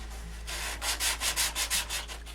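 Rhythmic back-and-forth sanding strokes on wood, about eight loud rasping passes in a steady rhythm, close up with no talking.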